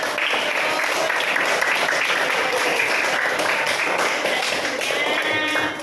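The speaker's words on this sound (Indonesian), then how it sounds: "kasih tepuk tangan bagus sekali" Students in a school classroom clap for a classmate's answer, a busy, close patter of many hands that continues steadily for about six seconds before easing off, with a few voices mixed in.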